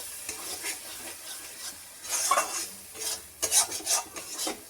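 A spice masala for chicken curry is stirred as it fries in a pan, with repeated rasping scrapes of the spoon over a low sizzle, coming in uneven strokes close by and without speech.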